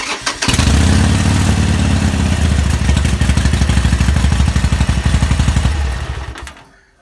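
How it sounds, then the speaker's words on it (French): A Harley-Davidson Sportster motorcycle engine cranks and fires up, settling into a loud, close, lumpy idle with a rapid uneven pulse before it is shut off and fades out near the end. "Donc je démarre la moto."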